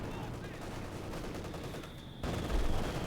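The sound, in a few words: mortar firing in video game Company of Heroes 2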